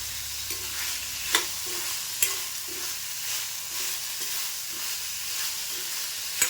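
Mixed vegetables for green pea rice are sautéed and stirred in a pan, giving a steady low sizzle with occasional scraping clicks of the spoon against the pan.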